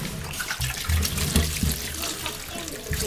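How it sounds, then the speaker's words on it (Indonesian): Tap water runs steadily over a goat head as it is rinsed clean after its hair has been burned off, with close splashing and gurgling and a few soft bumps of handling. "jadi kita cuci pakai air ya guys"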